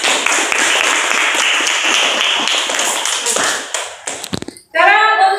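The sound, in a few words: applause from class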